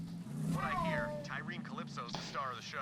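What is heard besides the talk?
cat meowing in the room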